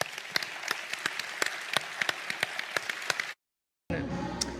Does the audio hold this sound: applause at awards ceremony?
yes